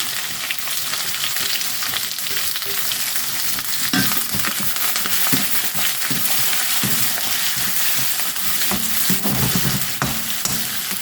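Steady, dense sizzling of onions and spices frying in a hot pan for semiya upma, loud and continuous, with occasional scraping stirs and crackles throughout.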